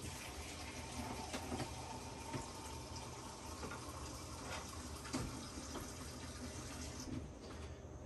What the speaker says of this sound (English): going to pour the water in the edge here to bring the water level up